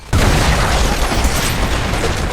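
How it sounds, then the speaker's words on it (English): A grenade explodes inside a room in a film, a sudden loud blast that swells into a sustained, roaring rumble lasting about two seconds. "A grenade is thrown into the room. The explosion throws them across the floor."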